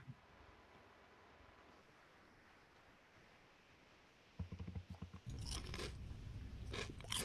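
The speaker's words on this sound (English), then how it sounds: "Can you guess the crisp I'm crunching?" Crisps are crunched close to the microphone: after a few seconds of quiet, loud crisp bites and chewing arrive in rapid bursts.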